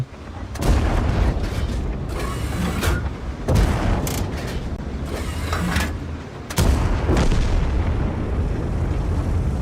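Tank cannon shots boom in a video game battle as a Char Mle. 75 fires, heavy blasts spaced a few seconds apart over a constant rumbling engine and mechanical clanks, with no talking.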